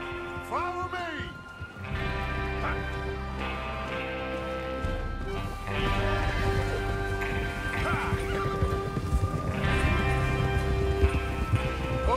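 Horses gallop in Red Dead Redemption 2 as a gang rides out to rob a train, a steady hoof rumble under a game soundtrack with occasional whinnies and shouts mixed in.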